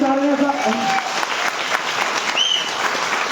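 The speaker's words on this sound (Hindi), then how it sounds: "एक बार तालियां बजा दे आप भी" Seminar audience in Mumbai clapping, a dense steady burst of applause from many hands, fairly loud and sustained, with a voice speaking briefly at the start.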